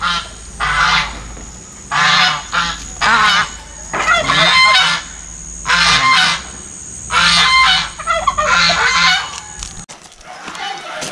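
Geese honk loudly and close by in a series of repeated bursts with short pauses between them, mixed with occasional voices in the background.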